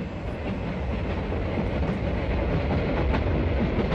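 A train on the high-altitude Qinghai-Tibet Railway runs steadily and close by, with a continuous rumble and rhythmic clattering of wheels over the rails and no voices.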